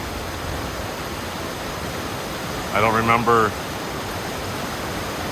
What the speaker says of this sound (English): The tallest single drop waterfall.